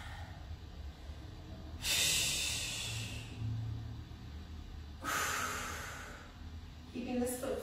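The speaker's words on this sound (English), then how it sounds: "Exhaling up there at the top." Sharp, forceful exhalations during a Tabata workout, three loud breathy bursts spaced a few seconds apart, close to the microphone over a faint background.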